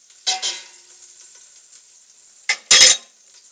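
Oil and butter sizzle in a pan for beef goulash, with two short bursts of hissing frying noise near the start and a louder, longer sizzle flare near the end over a faint steady background, no talking.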